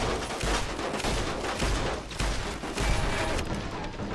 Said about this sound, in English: Why the hell are they shooting green plasma at me?